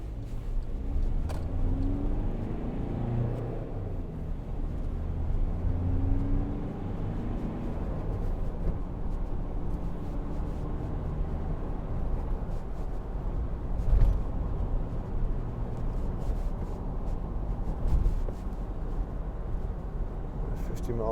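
Volkswagen Amarok 2.0 BiTDI pickup from 2012 driving on a bumpy road, heard from inside as a constant low rumble of engine and road noise with occasional thumps, while someone talks over it.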